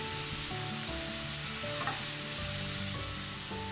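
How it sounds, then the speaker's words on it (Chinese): Mushroom slices and minced meat stir-fried in a pan, a continuous dense sizzle with occasional scraping stirs, under a steady hum of background music, with no speech. "把冬菇片炒香。 过后再加入肉碎"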